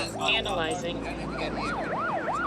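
Ambulance siren wailing in rising and falling sweeps, getting clearer over a rumbling street background, with a voice speaking briefly.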